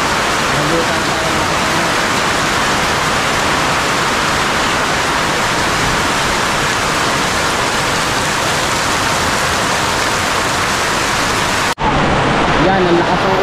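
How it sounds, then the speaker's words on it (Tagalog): Heavy rain pours down in a dense, continuous hiss, loud and close throughout, with a brief break near the end before the downpour resumes. "Yan, ang lakas ng ulan."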